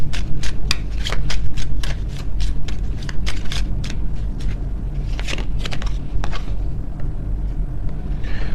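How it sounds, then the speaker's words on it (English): Oracle cards are riffled and shuffled close up in a rapid run of crisp flicks, then slower scattered slaps, over a low background rumble. "Let me get some final oracle cards here."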